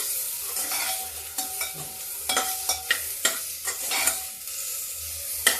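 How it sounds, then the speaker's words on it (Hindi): Sliced onions frying in a pan with ginger on a low gas flame, a soft continuous sizzle broken by repeated sharp scrapes and clatters of a spoon stirring, close and fairly loud. "अब ये जो प्याज भून रहा है"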